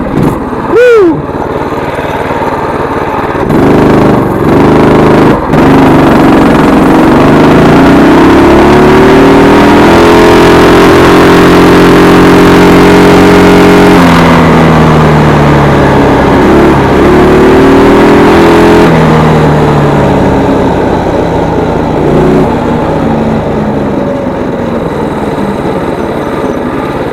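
A stock Predator 212 small engine with the governor spring bypassed roars close and loud, revving up to about 5000 RPM, holding there and dropping back in sustained pulls.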